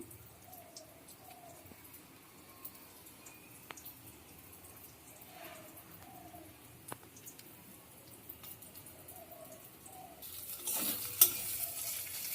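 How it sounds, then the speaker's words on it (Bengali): A spice mix with pointed gourd seeds is cooked in a pan, making a faint, soft sizzle broken by quiet stirring scrapes. A louder, hissing burst comes near the end. "পটলের বীজ দিয়ে মশলাটা কষানোটা দেখো অনেকটাই হয়ে গেছে"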